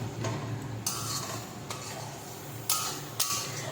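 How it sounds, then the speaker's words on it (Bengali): Masala frying in a home kitchen pan while a spatula stirs it: a steady low sizzle broken by several sharp scraping clinks of metal on the pan at uneven intervals. "এদিকে মশলাটা আমি কষে নিচ্ছি"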